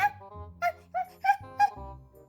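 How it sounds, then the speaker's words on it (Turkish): A dog gives a series of short, high, yelping barks, about five in quick succession, fairly close and moderately loud. "Neden havlıyor bu köpek?"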